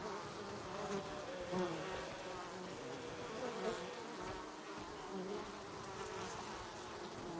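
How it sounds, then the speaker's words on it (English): A swarm of bees buzzing in the Ghost of Tsushima video game, a faint, steady droning hum that swells slightly at moments and runs the whole time without speech. "He's out of range of the bees now."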